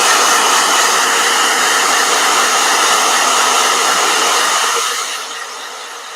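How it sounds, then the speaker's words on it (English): A hair dryer whirs loudly and steadily up close, then drops to a lower setting near the end. "Blow dryer."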